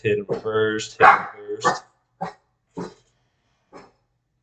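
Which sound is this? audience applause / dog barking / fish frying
dog barking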